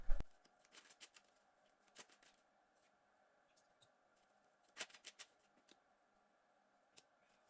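Sparse crisp riffling and snapping of cards in short bursts with quiet gaps between, close by and fairly soft.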